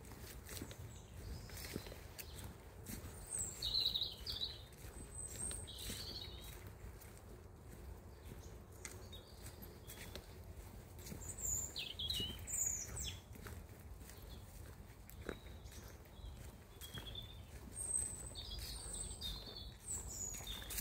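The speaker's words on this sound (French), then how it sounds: "il y a beaucoup d'oiseaux ici" Many birds chirp and call in quiet countryside in the Weppes, scattered high tweets and short phrases from several directions over a soft, faint background, with no talking.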